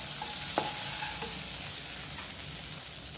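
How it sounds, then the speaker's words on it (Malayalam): Butter melts in a hot kadai for paneer butter masala, giving a steady, soft sizzle and hiss throughout with one brief click near the start. "കടായി വെച്ച് ചൂടായിട്ടുണ്ട്, അതിലേക്ക് കുറച്ച് ബട്ടർ നമ്മൾ ഇട്ട് കൊടുക്കണം."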